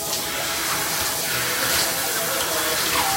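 Shower water running in a continuous, broad hiss and splash, close and steady throughout, with no talking over it.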